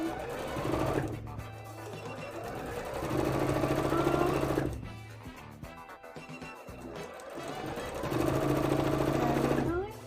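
A sewing machine runs in three sustained bursts, stitching fabric pieces with a short, tight stitch length for a custom mannequin, steady and close, with brief pauses between runs.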